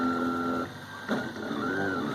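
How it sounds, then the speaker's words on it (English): A 3D printer runs steadily up close, a continuous whirring hum with shifting tonal motor whines as the print head moves, no talking. "it took right off printing"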